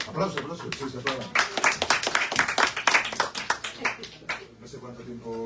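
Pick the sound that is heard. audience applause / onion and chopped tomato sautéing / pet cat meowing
audience applause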